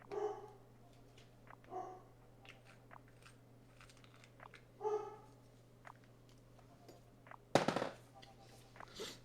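A dog barks indoors in several short bursts spread across the stretch, faint against a low steady hum, with one louder sharp burst near the end.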